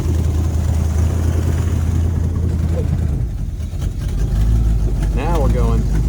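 Abandoned 1970 Ford Mustang V8 idling and revving as the throttle is turned up, a steady low engine rumble with a brief dip, close and loud, with a person talking over it near the end.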